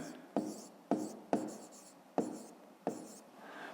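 Pen strokes writing an answer by hand on paper during a fifth-grade maths exercise, a series of five short scratchy bursts spaced unevenly, close and fairly quiet, with no talk.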